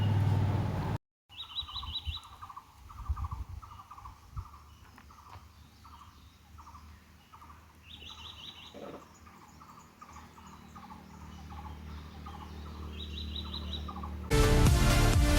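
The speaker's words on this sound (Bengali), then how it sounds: "নিন, আপনারাও শুনুন পাখির কোলাহল।" Birds chirp and call in a mountain forest near Sittong, Kalimpong, in North Bengal, with short bright trills repeating every few seconds over a steady insect-like buzz and soft outdoor background, and no talking.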